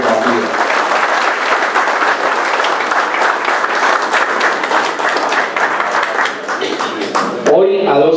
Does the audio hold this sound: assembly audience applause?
yes